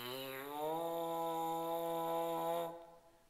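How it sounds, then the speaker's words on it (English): Lips buzzing into a French horn mouthpiece give a sustained nasal buzzing tone that slides up at the start, then holds steady for about two seconds before stopping, clear and close. "That buzz goes into the mouthpiece like this."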